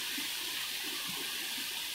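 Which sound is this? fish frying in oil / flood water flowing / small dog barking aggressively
flood water flowing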